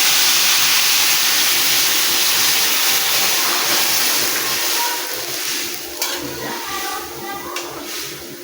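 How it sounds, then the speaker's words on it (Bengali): Hot water from the stove poured into a pan of sautéed spices for a Bengali fish curry with taro, a loud steady steam hiss that gradually fades, with a few clinks near the end. "আর আমি যে পাশে গ্যাসে জল গরম করছিল ওটা দিয়েছিলাম।"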